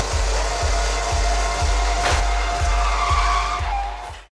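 A car driven fast with loud, continuous tire squeal and skidding over a steady engine roar, the screech pulsing in a regular rhythm for several seconds before cutting off abruptly.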